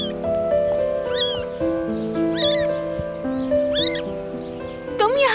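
Cat meowing three times at regular intervals, clear and close, over a soft background music bed, followed by a short voice at the end.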